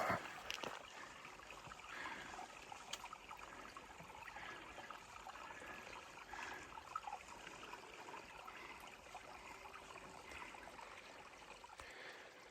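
A small creek flows through Nevada wilderness, a faint, steady trickle and wash of water that continues unbroken with no other sounds.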